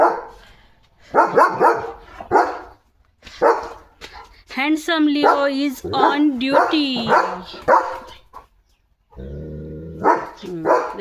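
A German Shepherd barks in short bursts and a whimper-like whine rises between them, with someone talking over much of it nearby.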